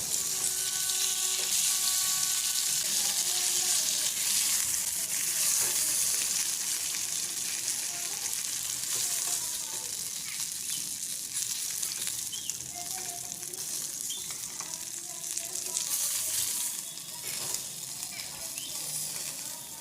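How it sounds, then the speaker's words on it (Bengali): Pieces of katla fish fry in hot oil, a steady, dense sizzle and crackle running continuously and fairly close, with occasional faint clinks and no talking. "যেখানে আমরা কাতলা মাছগুলোকে ভালো মতো ফ্রাই করে নেব"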